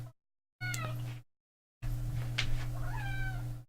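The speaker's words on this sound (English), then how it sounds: "Yes, you're a kitten." A kitten gives two close, clear meows separated by short silences, the second longer and rising, with a faint steady hum beneath and no speech.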